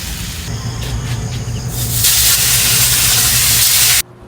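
Fish frying in a borrowed pan, a loud, dense hiss and sizzle that swells midway, then cuts off abruptly near the end, close-up with no talking.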